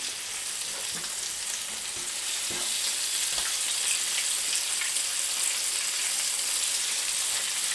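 Whole catfish frying in a pan, a steady loud sizzle of hot oil running throughout with a few soft taps and clicks of a utensil, no voices.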